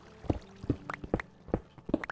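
Water flowing in Minecraft, heard as a rhythmic run of hollow, gurgling drips and bloops, about two or three per second, quiet and fairly close with nothing else beneath.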